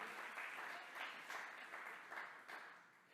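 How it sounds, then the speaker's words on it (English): Audience applause at a morning port business gathering, a faint, distant burst of many hands clapping that swells in gentle waves and carries on steadily throughout. "One more round of applause for Wink Williams, just the best MC around"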